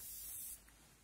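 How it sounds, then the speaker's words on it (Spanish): A short hiss of Baden-Baden thermal water sprayed from a small 50 ml facial mist can, soft and close, cutting off after about half a second into quiet room tone. "de Baden-Baden, de un agua en spray"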